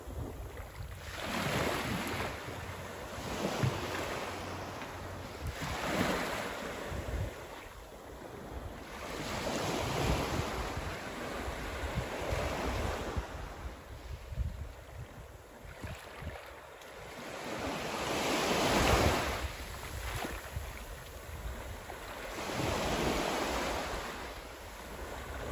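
Ocean waves break and wash up on a beach in slow repeated surges, a steady rushing roar with some wind, no voices.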